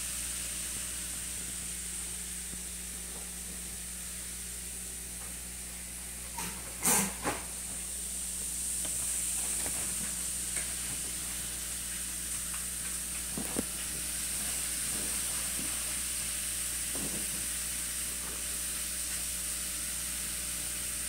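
An LOL Pearl Surprise toy fizzes in water in a continuous close hiss, broken by a few brief handling knocks and clicks, with no voices.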